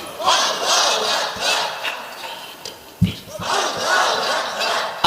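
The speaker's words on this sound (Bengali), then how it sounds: "এবার আকাশ বাতাস মুখরিত করে তাকবীর দিতে হবে" A large crowd at an outdoor Bengali religious sermon gathering loudly chants takbir in repeated massed waves, with a short break midway before the roaring chant swells again.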